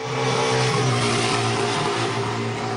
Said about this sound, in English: the cars are sounding really good now. They are sounding really hot and growly and aggressive, and it's sounding really like Formula One now